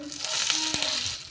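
Mustard seeds and urad dal splutter in hot oil for a chutney tempering, a close sizzle broken by a few sharp pops and crackles.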